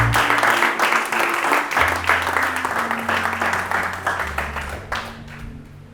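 A church congregation claps and applauds steadily, dense and continuous, with steady low organ or keyboard tones sustained underneath throughout.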